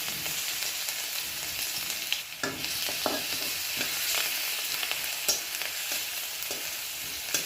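Crushed garlic fries in hot mustard oil in a kadai with dried red chillies, giving a steady close sizzle broken by a few sharper stirring scrapes, with no voices.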